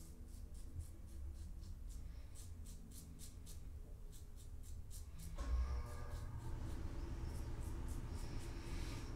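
Soft, rhythmic scraping strokes of a razor across stubble, close and fairly quiet, repeating steadily with a brief louder rustle midway.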